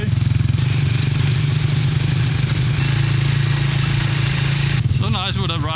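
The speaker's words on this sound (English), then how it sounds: "It was nice with a little ride, but the moped was about to explode" A moped engine strained on a ride at the Hmong New Year festival runs loudly and steadily with a buzzing, rattling drone, and near the end a voice speaks over it.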